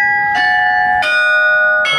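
Church bells in Bruges chime a tune, three bright metallic strikes ringing out in sequence, each with a long sustained hum, loud and fairly close with no talk.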